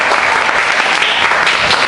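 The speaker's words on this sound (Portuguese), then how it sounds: "vamos receber, né, a nossa irmã com palmas para o nosso Senhor" Loud, steady applause from a church congregation welcoming a woman during a children's worship service, a dense wash of clapping filling the whole moment with no voices over it.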